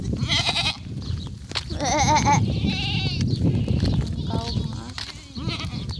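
Goats bleat repeatedly at close range, several wavering cries overlapping, while a person talks among them.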